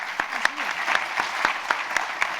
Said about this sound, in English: Let's hear a round of applause for our panelists.